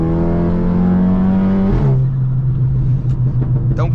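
A Volkswagen Golf GTI tuned to 450 hp holds a loud, high engine note, then drops sharply in pitch as the gear changes and settles into a lower roar.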